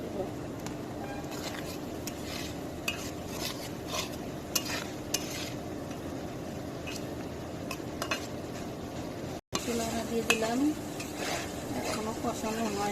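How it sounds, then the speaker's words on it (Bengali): Ginger-garlic paste sautéed in a pan, with a spatula scraping and stirring steadily over a soft sizzle, close and continuous, broken by a brief dropout. "পরিমাণ মতো আদা রসুন বাটা এখন ভালো করে কষায় নিব"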